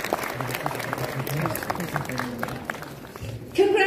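Audience applause for the Holy Cross Higher Secondary School, Dimapur band at a youth festival prize distribution ceremony in Kohima, a steady wash of clapping with crowd noise and voices mixed in, a little louder near the end.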